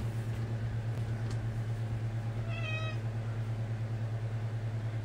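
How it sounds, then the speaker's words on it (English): A house cat gives one short meow in a room, heard under a constant low electrical hum with faint background noise. "There's the cat, see?"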